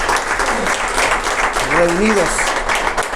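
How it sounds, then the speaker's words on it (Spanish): Pastors at a church gathering applaud loudly and steadily for about three seconds, with someone speaking over the clapping throughout. "den un fuerte aplauso para que los escuche"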